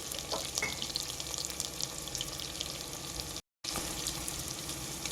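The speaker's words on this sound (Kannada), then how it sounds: "ಇದು ಚೆನ್ನಾಗಿ ಫ್ರೈ ಆಗಬೇಕು" Salted onions sizzling steadily in a pan while being fried for mushroom pulav, a continuous crackling hiss with a few stirring scrapes, briefly cutting out near the end.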